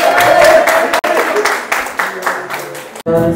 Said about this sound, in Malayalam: കയ്യടി കയ്യടി കയ്യടി.